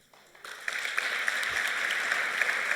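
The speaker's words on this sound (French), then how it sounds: "Vous êtes gentil de m'applaudir" An audience applauding a speaker at the ISNAR-IMG 2023 congress; clapping swells in after a quiet start and holds as a dense, even round of applause.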